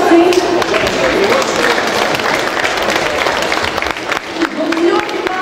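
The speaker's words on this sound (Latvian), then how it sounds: "Aplausi!" Audience applause during a local Aizkraukle TV broadcast, loud dense clapping that runs throughout, a little uneven in intensity with a brief dip near the end.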